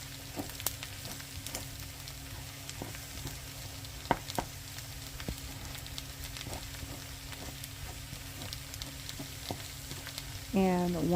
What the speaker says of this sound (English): So you want to pretty much cook the egg